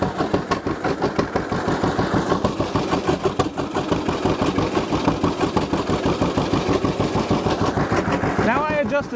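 Old John Deere G tractor engine chugging steadily at a loud, close idle with a fast, even firing rhythm that runs the whole time, and a brief whine near the end.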